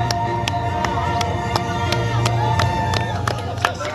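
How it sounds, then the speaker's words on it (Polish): At an award ceremony for the top finishers of a town cup footrace in Siechnice, a crowd applauds with sharp, rhythmic claps over a steady murmur, while a voice talks over a sound system. "Wielkie, wielkie brawa dla wszystkich proranowiczów."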